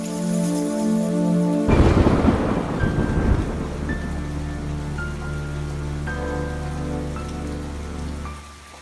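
A loud thunder crash rolls over steady heavy rain, shaking a house, with a low rumble fading while droplets keep drumming on a surface.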